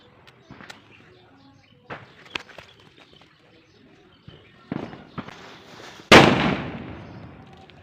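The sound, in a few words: Lakshmi firecracker exploding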